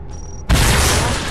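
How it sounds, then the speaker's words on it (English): A small bomb goes off in a zombie video game: a sudden loud, broadband boom that hits about halfway through and then rumbles on steadily to the end, after a quieter stretch of game background with a faint tone. "I'm gonna use my little bomb."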